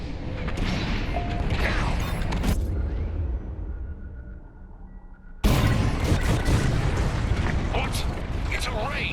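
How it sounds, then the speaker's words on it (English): Bombs fall in the Star Wars Squadrons space-combat video game: heavy mechanical rumbling and explosive bursts play under game voices. The sound drops into a muffled lull, then a loud blast hits and dense crashing follows. "It's bombs away."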